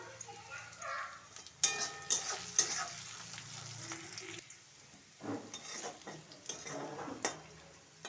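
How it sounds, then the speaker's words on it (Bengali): Dried red chillies dropped into hot oil for tempering at the start of a cabbage paste dish, giving a crackling sizzle with brief sharp spikes and some stirring clatter, moderately loud and steady with no talk. "দুটো শুকনো লঙ্কা ফোড়ন দিয়ে দিলাম"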